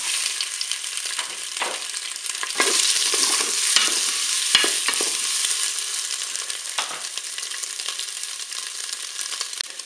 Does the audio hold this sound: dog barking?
no